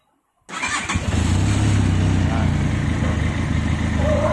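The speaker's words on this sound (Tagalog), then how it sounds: "pero kailangan i-on muna natin yung makina" A Benelli TRK 502X motorcycle engine cranks and catches after a moment of quiet, then settles into a loud, steady idle close by.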